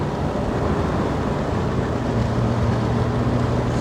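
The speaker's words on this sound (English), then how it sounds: "Hear the turbo spool up as well." A Nissan Pulsar GTI-R with a turbocharged SR20 engine and all-wheel drive pulls hard in fourth gear, a steady loud engine drone with a rising whine as the turbo spools, heard from inside the car.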